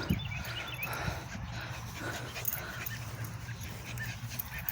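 Long-haired Chihuahua and Pomeranian dogs playing outdoors, with scattered small yips, whimpers and scuffling over steady background noise.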